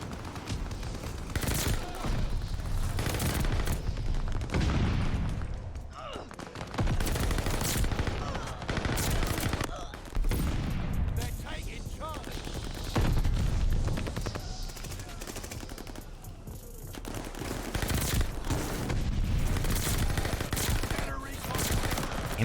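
Rapid automatic fire from a Marco-5 light machine gun in Call of Duty: Vanguard, with dense, sustained volleys of loud gunshots and a few short pauses, while a voice talks over the action.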